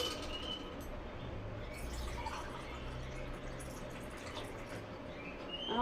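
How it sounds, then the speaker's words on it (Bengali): Water poured into a glass for an Eno drink, a steady trickling fill with faint dripping, moderately quiet and continuous through the whole stretch, with no talking. "একদম মেপে মেপে জল দেবো।"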